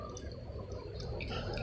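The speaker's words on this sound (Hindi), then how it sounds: "पानी तो बहुत भर रहा है" Water filling up a bottle, a steady liquid pouring and dripping wash that runs continuously and slightly swells toward the end, fairly close and moderately loud with no talk over it.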